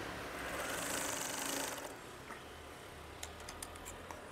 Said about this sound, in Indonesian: Kemudian jahit saja.